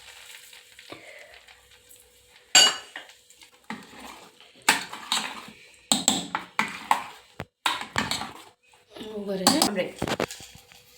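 Pav bhaji with butter is stirred in a hot pan: a soft sizzle runs under irregular bursts of spoon scraping and metallic clinks against the pan, with a voice heard at moments.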